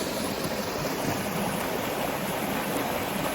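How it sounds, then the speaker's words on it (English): Mountain creek flowing over mossy rocks in an ancient rainforest, a steady, close, full rush of running water with no pauses. "Probably one of the most beautiful creeks in the bloody area"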